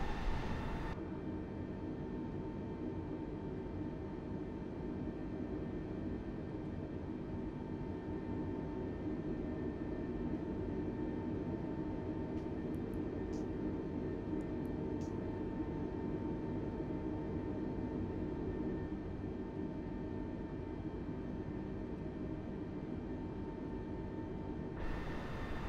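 A steady, unbroken engine roar inside an airliner flying from Fort Lauderdale to Punta Gorda, heard as it sets off on a crosswind takeoff with flaps extended; the drone stays constant throughout, with no talking.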